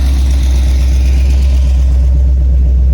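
A car engine with a badly adjusted carburetor, mounted in a backyard, runs with a heavy, loud, close-up low rumble that revs continuously and unevenly.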